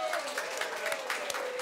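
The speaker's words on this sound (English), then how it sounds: "a big round of applause for Labour MP, Trevor Mallard." Studio audience applause for Labour MP Trevor Mallard on a New Zealand television show: steady, fairly faint clapping under a short stretch of talk.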